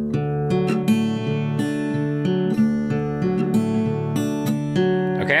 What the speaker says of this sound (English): if we just do it on an open string set, it's gonna sound like this. So I'll do it super slow.